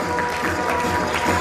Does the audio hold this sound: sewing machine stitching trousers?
no